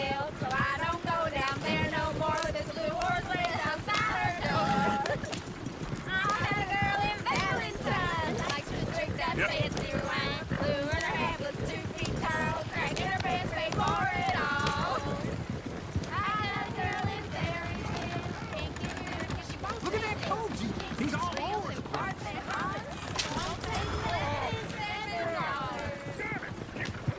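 Horse hooves clip-clop steadily in Red Dead Redemption 2, a continuous patter of galloping running under frequent character dialogue.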